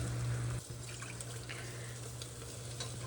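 Water poured from a bowl into a pot on the stove while preparing jowar roti, a soft continuous splashing trickle over a low hum, fairly quiet and close, without speech.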